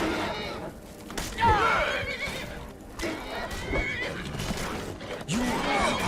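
A horse in the Skyrim video game whinnies several times with shrill, wavering calls, mixed with hoof clops and game sounds, with some voice in the background.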